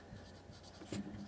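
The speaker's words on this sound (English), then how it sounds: "that's the first thing that I'm going to write down on my paper" Pen or pencil writing on paper during a second-grade lesson on the digestive system, a soft scratchy stroke sequence with a slightly louder scribble near the end, close and faint with no talk.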